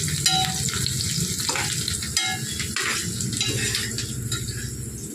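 Onions and curry leaves frying in a pan for a village-style mutton curry crackle loudly and close, broken by rhythmic stirring scrapes and pot clatter.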